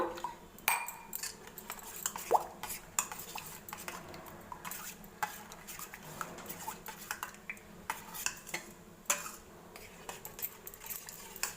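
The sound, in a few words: stirring thick curd with water in a bowl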